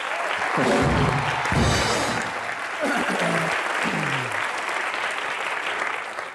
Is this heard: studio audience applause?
yes